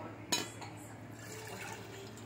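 Strained pani puri water poured into a bowl in a home kitchen: a sharp clink, then a soft, steady close-up pouring and trickling of liquid.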